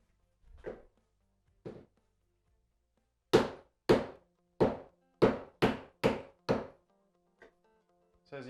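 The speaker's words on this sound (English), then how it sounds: "a couple hits with the hammer, we're starting to get this to crack" Sharp hammer strikes on a chisel against a wooden door frame ring out in a quiet room, a few spaced hits followed by a quicker run of about eight blows.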